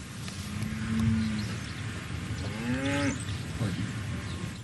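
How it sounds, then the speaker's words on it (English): Black steers in feedlot pens moo several times, one long low call then a rising bellow, over a steady outdoor rumble and no talking. "I'm looking at hundreds, if not thousands, of black steers munching at the concrete feed bunk"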